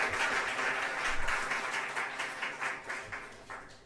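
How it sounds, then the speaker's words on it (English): Applause from a conference audience for an alumni panel, a fairly soft, distant-sounding patter of many hands clapping that thins out and fades over a few seconds. "So let's give them a last round of applause"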